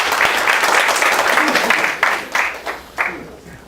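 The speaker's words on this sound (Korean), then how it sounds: "우리 황 박사 박수 한번 쳐주세요" An audience claps for Dr. Hwang at a talk on startups, a loud burst of group applause that thins into scattered, separate claps over a few seconds.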